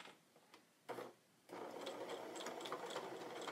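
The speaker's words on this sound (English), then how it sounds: "I got to put on a straight stitch because the last thing I did was a zigzag." A sewing machine running a straight stitch on sweater fabric for mittens: a couple of short bursts, then a steady, close mechanical whirring with a fast, even rhythm and no talking.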